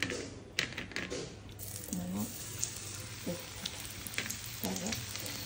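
Semolina-coated marinated surmai fish pieces fry in hot oil with a steady, close sizzle throughout, while someone talks over it.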